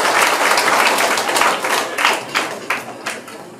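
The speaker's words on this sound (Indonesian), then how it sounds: "Mari kita berikan aplaus kepada kita semua di saat ini" An audience applauding at a hospital inauguration in Nikiwar District, a dense burst of clapping from a crowd that stays loud, then thins into scattered claps as it fades.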